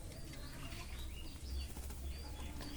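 Faint pigeons near a pigeon house, with soft wing flutters and light chirps over a low background rumble, quiet and brief.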